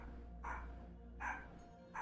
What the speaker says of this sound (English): I think my dog is barking.